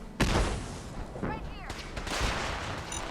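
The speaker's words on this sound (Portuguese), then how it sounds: "Vou jogar uma granada ali pra..." Gunfire and a grenade blast in the Fallout 4 video game: sharp, loud shots and bursts break out in quick succession, with a brief ringing tone between them and battle noise carrying on behind.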